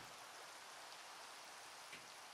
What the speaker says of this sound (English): And it's raining. Look at all the rain.